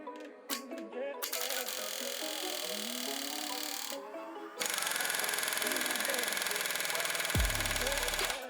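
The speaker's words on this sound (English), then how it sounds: "It's a big rattle gun and a small compressor, so it just like dumps all the air and then boots back up." A big pneumatic rattle gun with a 55mm socket hammers on a TD42T engine, fed by a small air compressor; bursts of loud, rapid impact rattling alternate with the compressor's motor running, and no one speaks.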